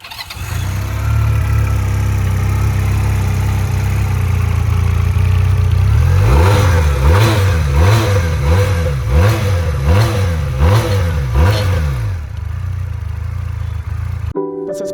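A QJMotor SRC 250 motorcycle engine idles loud and close, then revs up in a rhythmic run of about seven rising and falling bursts before settling back to a steady idle.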